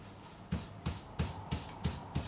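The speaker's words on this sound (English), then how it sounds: "I'm going to give the fingerboard a scrape. Get all this gunk and crap off it." A scraper works along the fingerboard of an Ibanez Roadstar II RG200 guitar neck to clear built-up gunk: six evenly spaced rasping strokes, close and fairly loud, with a soft rub between them.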